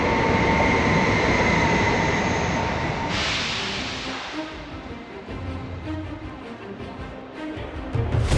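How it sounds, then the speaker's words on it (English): Airport SkyTrain people mover running along its track with a steady rolling rumble and high whine that shifts midway, heard nearby with no talking. "you got to take the SkyTrain towards the terminal"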